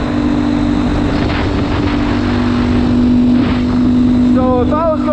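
A GPX Moto FSE300R dual sport motorcycle engine holds a steady drone at about 6,000 RPM in sixth gear at 45 mph on pavement, with wind rush throughout and someone talking over it.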